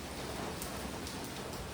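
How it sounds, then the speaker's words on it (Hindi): Heavy rain pours down steadily during a sudden storm, a thick, close, continuous hiss with faint low rumble beneath, and no voices. "बारिश बहुत तेज़ हो रही है"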